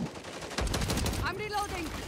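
Close, loud gunfire from the video game MW3 crackles in quick bursts, with a radio-style voice speaking over the shots.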